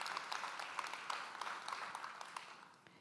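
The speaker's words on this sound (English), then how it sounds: "Please give Robbie a round of applause, you guys." Audience applause at a business networking event in Atlanta, a faint, distant patter of clapping that holds steady and then fades slightly.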